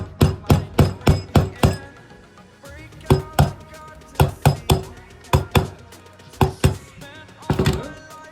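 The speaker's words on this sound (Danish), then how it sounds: "Der er så lige hammereringen, der sker lige." Hammer blows on a moped during renovation of a Yamaha Jog R scooter ring out in quick clusters of sharp metallic strikes, about six rapid hits, then scattered pairs and a final burst, close and loud with workshop clatter between.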